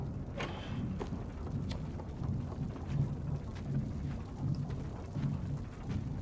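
Rain and thunder outside in the video game Little Nightmares: a steady rumbling downpour with low thunder rolls swelling and fading over the hiss of rain, heard from indoors, with no talking.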